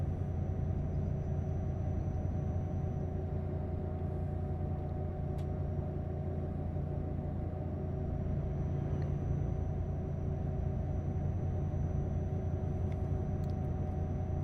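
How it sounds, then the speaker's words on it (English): A truck engine in Euro Truck Simulator 2 drones steadily, a deep continuous rumble with a sustained tonal hum that never changes, with only faint ticks on top and no talking. "That's an annoying sound this truck makes. Very annoying sound. I like its engine, but its running sounds awful."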